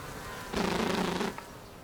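A single honeybee buzzes close by at a feeder, a steady droning hum that swells in for under a second against a constant hiss of background noise, then cuts off abruptly.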